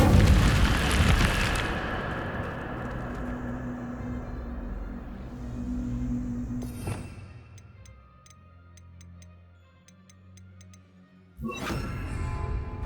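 Incendio fire spell cast in Hogwarts Legacy: a loud fiery burst that fades over a few seconds, then quieter ticking, and a second sharp whoosh near the end.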